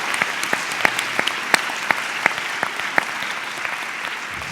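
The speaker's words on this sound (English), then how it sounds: "you clapped too soon" Scattered, sparse claps ring out from a conference audience after a presentation, a dozen or so distinct sharp hand claps spaced irregularly and thinning out rather than building into full applause.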